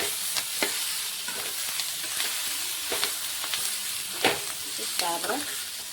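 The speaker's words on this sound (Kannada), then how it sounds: "ಇವಾಗ ಇದು ಕೂಡ ನಾನು ನೀಟಾಗಿ ಫ್ರೈ ಮಾಡಿ ತೊಗೋತೀನಿ" Onions frying in oil in a pan for an egg curry, a steady sizzle with occasional stirring clicks and scrapes, close and continuous with no voices.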